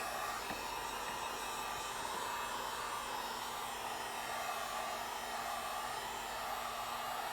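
A steady, loud rush of hot air from a heat gun runs continuously without pause during a BMW E46 3 Series speaker installation, with no talking.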